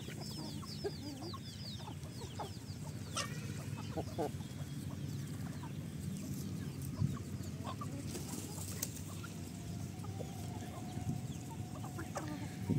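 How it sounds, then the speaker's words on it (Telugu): Young country chicks cluck softly and repeatedly close by on a farm, with scattered peeps and small rustles over a quiet, steady background. "మా చిన్న చిన్న కోడి పిల్లలు చిన్నగా అనిపించినాయి"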